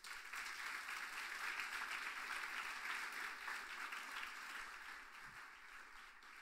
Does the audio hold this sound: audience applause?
yes